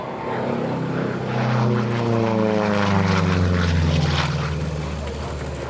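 A P-47D Thunderbolt warplane flies past at the EAA AirVenture airshow in Oshkosh, its radial propeller engine droning louder as it approaches, then fading with a falling pitch.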